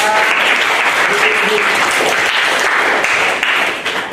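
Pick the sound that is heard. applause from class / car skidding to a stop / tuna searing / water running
applause from class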